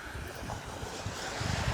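Outdoor wind buffets the microphone, a steady, rough roar throughout with a slight swell toward the end and no speech.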